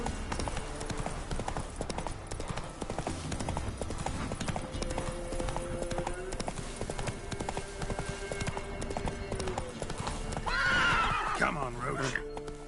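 Roach the horse gallops with fast, steady hoofbeats in The Witcher 3 video game, then lets out a loud neigh near the end, with game music and speech mixed underneath.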